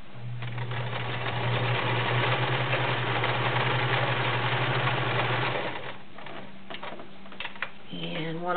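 A vintage 1931 Kenmore convertible free arm sewing machine runs a zigzag stitch with a steady humming whir and rapid needle chatter, then slows and stops, leaving a few clicks and handling noises, with some faint speech.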